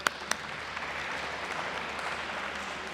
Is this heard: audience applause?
yes